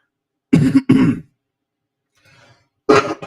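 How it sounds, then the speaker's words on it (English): Two sharp coughs close together, a faint pause with a soft throat sound, then another harsh cough, all close to the mic. "Sorry about the cough."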